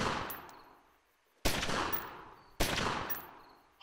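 Heavy gunshots in the game Omerta: City of Gangsters boom one at a time, loud and close, each leaving a long echoing tail that fades before the next blast.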